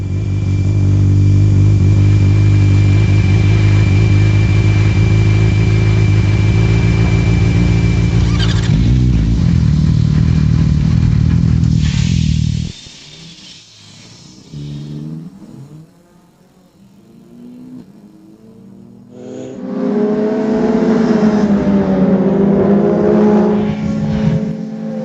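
A motorbike engine drones loudly at a steady pace for several seconds, drops away to near quiet, then the motor rises again with changing pitch.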